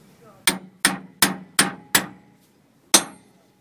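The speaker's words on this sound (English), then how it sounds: "Dust cap removal tool, hammer." A hammer strikes a dust cap removal tool on an Alko drum six times, close and loud, sharp metallic blows at a steady pace with a short pause before the last strike.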